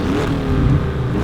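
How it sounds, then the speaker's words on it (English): A 2016 Porsche 718 Boxster S turbocharged four-cylinder engine revs loudly and close by, a raspy, throaty rise and fall with no voices. "It's very much a 4-cylinder sound, not a 6-cylinder sound."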